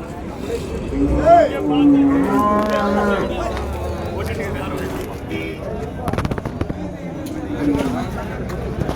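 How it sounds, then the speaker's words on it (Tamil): Cows at the Vaniyambadi cattle market moo repeatedly in the morning, with loud, close, drawn-out calls amid market bustle while people talk nearby. "நல்லா அருமையான ஒரு பசு மாடுங்க காலையில் வந்து வாணிமுடி சந்தையில் பார்க்குறது நல்லா ஜம்முன்னு இருக்குது"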